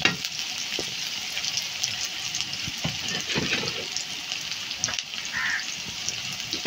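Chopped onion sizzles steadily in a hot pan, a continuous crackling hiss with scattered pops and occasional scrape-like stirring noises, close and fairly loud throughout.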